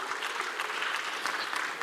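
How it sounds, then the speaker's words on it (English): A conference audience claps together in a dense, sustained wash of applause, loud and even across the whole moment with no pauses. "A round of applause to yourselves, please."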